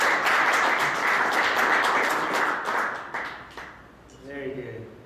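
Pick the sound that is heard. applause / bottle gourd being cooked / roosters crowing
applause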